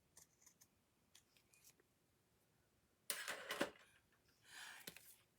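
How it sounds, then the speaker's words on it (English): Large ribbon scissors cut through ribbon in a quiet room: a few faint snips at first, then a louder, crisp run of closing blades, with one more snip a moment later. "let me get my big ribbon scissors here"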